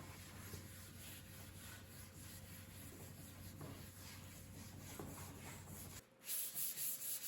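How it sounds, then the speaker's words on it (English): Fine steel wool soaked in mineral spirits rubs steadily across a mid-century modern Lane wooden coffee table, making a continuous scratchy scrubbing close up, which stops abruptly near the end before a few softer rubbing strokes. "I applied mineral spirits and wiped it down with fine steel wool to remove the leftover residue."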